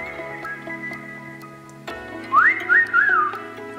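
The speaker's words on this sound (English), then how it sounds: "A lot of reverb on that whistle." In a song, a whistled melody soaked in heavy reverb rises over sustained synth pads and twinkly backing in the second half, in three short swooping phrases.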